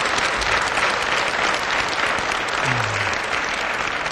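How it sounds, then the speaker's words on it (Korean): Sustained applause from a church congregation, many hands clapping steadily and loudly throughout. "한번 박수 치세요"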